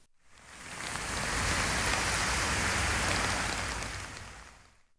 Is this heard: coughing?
no